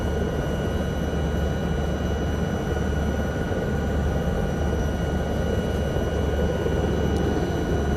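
An SA315B Lama helicopter flies in Microsoft Flight Simulator over Cornwall, its steady rotor and engine drone filling the passage evenly and continuously with no talk.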